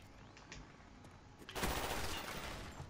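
Kiparis submachine gun firing in Black Ops 1, a sudden loud burst of rapid shots after a quieter lead-in with a few faint clicks, sustained to the end.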